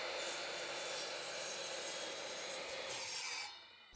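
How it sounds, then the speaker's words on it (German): A hand saw rasps steadily through square timber, close and fairly loud, then stops abruptly near the end. "beim Sägen achte ich darauf, dass das Sägeblatt die hintere obere Ecke trifft"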